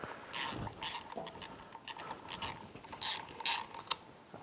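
Clutch cover bolts on a Honda Grom being turned with a ratchet, quick bursts of close metallic clicking repeated in short runs, a few turns at a time.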